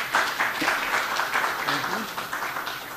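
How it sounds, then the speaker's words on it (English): Lecture audience applause welcomes a photographer to the stage, a moderate patter of clapping hands that stays fairly even while a faint voice murmurs briefly underneath. "please give a warm applause for Mark Klett."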